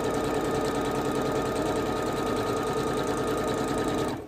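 A sewing machine stitches a red quilt in a fast, even mechanical chatter that holds steady and close for several seconds, then stops abruptly.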